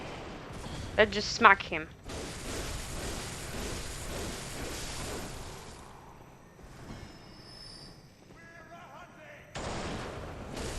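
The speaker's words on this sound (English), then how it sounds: "This dude is actually shooting at me." Enemy gunfire in Bloodborne: a few sharp, loud shots crack out early, then a steady rumble of game ambience follows while someone talks over it.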